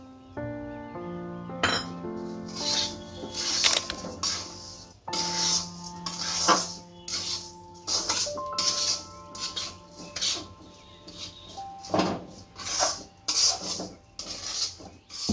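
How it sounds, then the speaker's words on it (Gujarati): A spoon scrapes and stirs sugar into roasted semolina in a pan, with continuous gritty rubbing and frequent light metallic clinks against the pan, close and fairly loud. "આપણે ખાંડને સારી રીતના મિક્સ કરી દેવું।"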